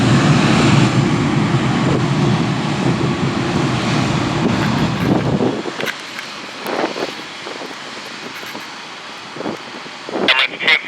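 An Emirates Airbus A380 taxis close by toward runway 06L at Toronto Pearson, a loud steady jet engine roar with wind buffeting that drops away midway to a quieter, thinner rumble with faint scattered noises.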